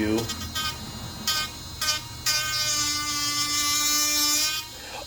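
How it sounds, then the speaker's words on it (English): A power drill fitted for sanding whirs in short bursts that start and stop, then runs steadily with a high motor whine before cutting off, sanding resin drops off a canvas. "all you're doing is sanding"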